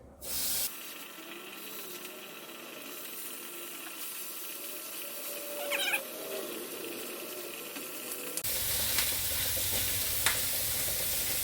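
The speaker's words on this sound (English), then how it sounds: "I got my patties done. So I want to place them in the skillet." Beef patties for Salisbury steak hit a hot skillet with a steady, close sizzle and hiss that swells louder near the end.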